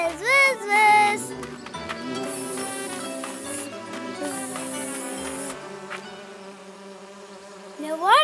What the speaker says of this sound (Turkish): Vız vız vız. Peşindeyim arı kardeş.